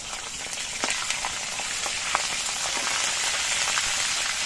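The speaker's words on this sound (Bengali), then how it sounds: "একবারে সবগুলো মাছ ভাজা যাবে না, দুইবারে ভাজবো মাছগুলো" Pieces of sea fish (ritha) fry in hot oil in a pan, giving a dense, continuous crackle and sizzle, with sharp pops scattered through it at an even, close level.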